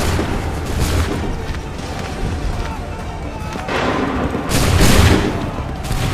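Musket volleys ring out in Assassin's Creed 3 Remastered gameplay: a couple of booming, rolling gunfire bursts at mid distance, the strongest near the end, over steady battlefield noise.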